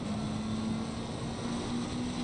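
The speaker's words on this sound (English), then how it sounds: "Love the sound of the engine echoing back off the wall." Engine drone of a McLaren race car in a racing video game at Spa, echoing back off a wall, a steady rising whine heard alone at a moderate, somewhat distant level.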